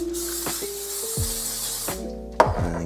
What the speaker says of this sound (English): So you do need to spray the pan a little bit just so the pancakes don't stick.